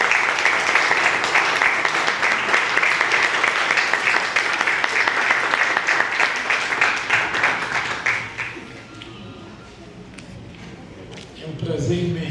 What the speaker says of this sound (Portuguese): eu quero que a igreja receba agora, uma salva de palmas, o irmão Alexandre